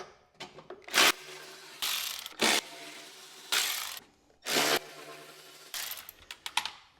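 A T30 Torx bit working bolts loose from the deck cover of a Craftsman LTX1000 riding mower: several short bursts of close ratcheting and grinding separated by pauses, with no voices.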